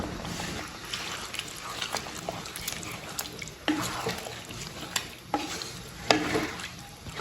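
A chicken curry with fried potatoes is stirred and sautéed in a pan, spatula scrapes and clacks recurring irregularly over a soft, close sizzle.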